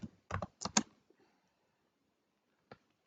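A handful of quick keystrokes on a computer keyboard as a short word is entered, clustered in a brief burst near the start, then quiet with one last isolated tap.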